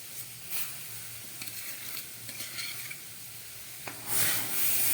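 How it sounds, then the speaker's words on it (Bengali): Milk with nolen date-palm jaggery heating in a pan, a steady sizzle and hiss with stirring scrapes, swelling louder near the end. "এই দুধ আর গুড়টাকে খুব ভালো করে জাল দিয়ে নিতে হবে।"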